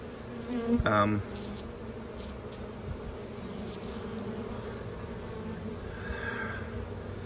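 Honey bees buzz in a steady, close drone from an open hive during an inspection, with a brief louder burst near the start.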